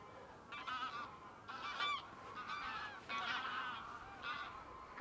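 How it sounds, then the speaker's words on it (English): A flock of geese honks as it flies over the ruins of Dryslwyn Castle in Wales. About five bursts of loud, overlapping honking come in an irregular rhythm, with no one speaking. "I'll wait for these geese to fly over."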